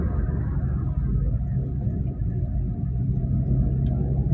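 An old family car, in use for some 17 to 18 years, rumbles while being driven, a steady, dense low engine drone close by with no break or voices.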